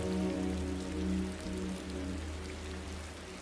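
Steady, dense rain pours continuously at an even level over a low rumbling hum, with no distinct thunderclaps or voices.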